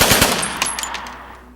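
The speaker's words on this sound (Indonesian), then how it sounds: "Franz terpantau dari jendela kamar dan ia pun langsung diserang dengan tembakan." A film scene erupts in a fast burst of loud, close gunfire, a few sharp cracks ringing out before they trail off into a fading echo.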